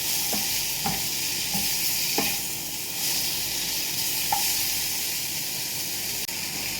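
Tomatoes fry in a pan for chutney, a steady close sizzle with a spoon scraping and stirring in irregular strokes, no voices over it.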